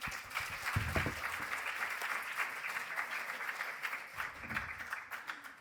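A debate audience applauds the first speaker with steady, dense clapping from many hands that holds for several seconds before tapering slightly toward the end.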